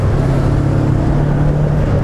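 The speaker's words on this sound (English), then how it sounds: "Honestly, I can't believe how this bike rides, how the engine pulls." A Voge 500AC motorcycle accelerates in fifth gear, a loud, steady, low engine drone mixed with heavy wind rush, continuous and close with no talk.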